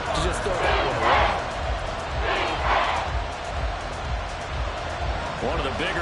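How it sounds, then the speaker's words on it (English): A stadium crowd at an American football game rises in loud, surging roars ahead of a big third down, with swells coming in waves under continuous commentator talk. "The crowd getting into it as we come up on a big third down."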